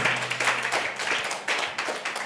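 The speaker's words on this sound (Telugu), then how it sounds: "గట్టిగా చప్పట్లు కొట్టడం ఒకసారి, గట్టిగా" A church congregation claps loudly together, a dense burst of many hands that continues as rapid ragged applause through the short moment.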